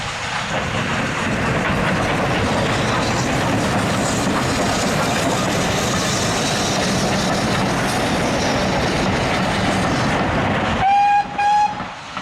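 Locomotive 70013 Oliver Cromwell pulls into a Great Central Railway station with the Rothley to Loughborough service, a loud, steady rumble of rolling wheels and carriages that ends in a short, clear horn blast.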